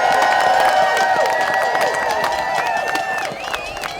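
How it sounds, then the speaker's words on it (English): Crowd at an outdoor political rally for the Middlebury Indivisible claps and cheers steadily, a dense wash of applause with scattered whoops that softens slightly toward the end. "can we get a big round of applause for the Middlebury Indivisible"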